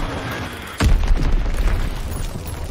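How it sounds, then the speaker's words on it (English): A bomb detonates in a Call of Duty multiplayer match, a single loud boom that lingers into a rumbling tail, with gameplay noise underneath. "Enemy bomb incoming."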